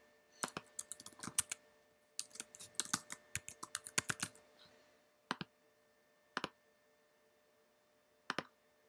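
Keys clatter on a computer keyboard as a password is typed to log in to NSX Manager: two dense, quick bursts of close clicks, then a few separate single taps spaced out near the end.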